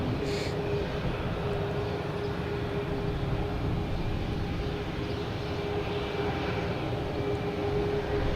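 At Boston Logan Airport, an Airbus A319 lining up on runway 22 right gives off a steady, low jet engine rumble with a faint thin whine running through it, even and unbroken from start to finish.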